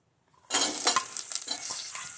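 Chopped onion hits hot cooking oil in a pan for methi aloo, bursting into a loud, close sizzle after half a second of silence, then a steady crackling fry with a few stirring scrapes.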